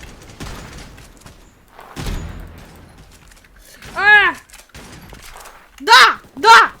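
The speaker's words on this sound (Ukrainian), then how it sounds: "Ну от він з авапи стріляє." Several sharp sniper rifle shots (AWP) in a video game, spaced apart, with a loud pair near the end, and a voice talking over and between them.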